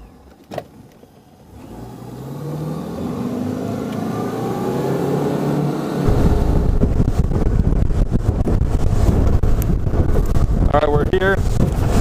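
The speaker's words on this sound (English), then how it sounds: "Oh, now wind is blowing right up and across this bad boy" Wind blowing across a small fishing boat on Bayou Biloxi, a broad rushing roar that builds and grows louder midway, heavy buffeting on the microphone, with a motor-like rumble underneath.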